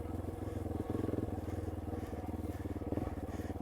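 The single-cylinder engine of a Yamaha XT250 motorcycle thumps at a low, steady idle-level beat during a slow pivot turn on the back wheel, close and continuous with a slight surge midway.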